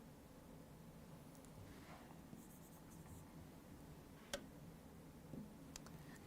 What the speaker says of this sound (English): Let me write it as